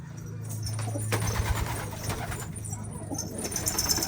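Urfa and homing pigeons coo in low, repeated throaty murmurs close by, with soft rustling and faint voices in the background.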